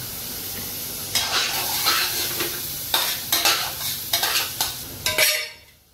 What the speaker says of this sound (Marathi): तर मंडळी बघा आता कांदा शिजतोय